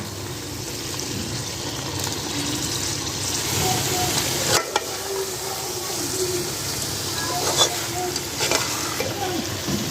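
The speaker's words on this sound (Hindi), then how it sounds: "अभी हमने कोफ्ते जो पहले से फ्राई करके रखे हुए हैं, अभी ये शामिल कर देंगे इसमें।" Pre-fried beef koftas stirred into a sizzling masala in a pot: steady close frying hiss and crackle throughout, with a spoon scraping and stirring, and a few sharper knocks against the pot.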